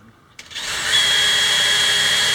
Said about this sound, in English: Drill a hole straight down the middle of there.